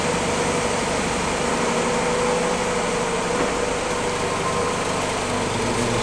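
A Willys L-head engine idles just after a cold start, a steady, even mechanical drone that runs unbroken and close by, with no talking.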